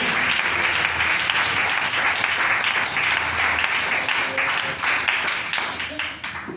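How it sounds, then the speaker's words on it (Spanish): A church congregation claps loudly in praise during a Sunday missionary service, a dense sustained wave of hands that tapers slightly toward the end. "Démosle este aplauso fuerte a Dios"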